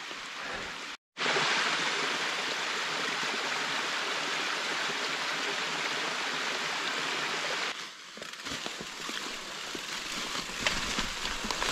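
Waterfall in the Lamba valley, Postăvarul area, in autumn: a steady, close rushing roar of falling water that briefly drops out near the start, then continues unbroken and fills the clip.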